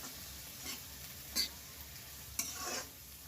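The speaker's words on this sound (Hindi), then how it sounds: "सभी को अच्छे से मिलाएंगे और कलछुल चलाएंगे।" Chopped onions frying in a pan in a home kitchen, stirred with a ladle, giving soft sizzling under a few sharp scraping strokes of metal on the pan, quiet and close.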